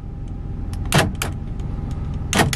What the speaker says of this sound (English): It also has power door locks.